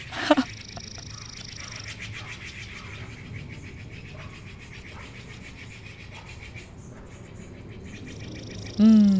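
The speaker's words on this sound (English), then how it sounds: "The birds are welcoming you too." Birds calling outdoors: faint, high twitters and chirps go on quietly in the background throughout, with a brief louder sound at the very end.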